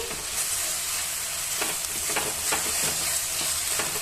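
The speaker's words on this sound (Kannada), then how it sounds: "ಚೆನ್ನಾಗಿ ಮಿಕ್ಸ್ ಮಾಡ್ಕೊಳ್ಳಿ ನೋಡಿ" Onion and tomato for crab masala are stirred and mashed in a hot pan, a close, continuous sizzle broken by scraping strokes, with no voices.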